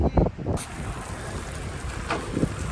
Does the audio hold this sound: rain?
yes